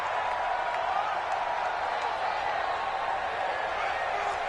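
In an American football video game, a steady roar of stadium crowd noise fills the whole stretch at an even, loud level, with no clear breaks or peaks.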